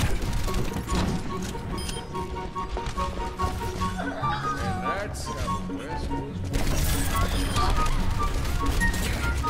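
Rapid turret gunfire rattles through a busy Overwatch match, dense bursts of shots and crashes layered over game music and effects, growing louder near the end while players talk.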